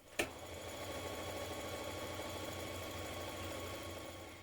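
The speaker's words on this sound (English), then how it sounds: "So we're going to do two lines of gathering stitches along there." A sewing machine runs steadily, stitching gathering lines along a dress sleeve, a soft continuous mechanical whir after a brief click at the start, faint and close with no talking.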